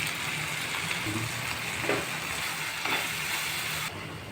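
Cucumber pieces simmering in a pan with salt and chilli powder for a cucumber curry, giving a steady low sizzle and bubbling that runs throughout, with a few faint clinks.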